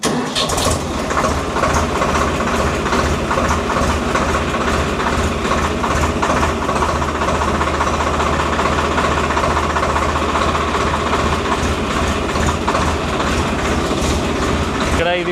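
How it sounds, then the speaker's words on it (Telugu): A Shakti tractor with a hydraulic plough runs at a steady idle, its dense, continuous engine rumble loud and close throughout with no pauses. "ఇంజన్ బీటింగ్ కూడా ఒకసారి వినండి."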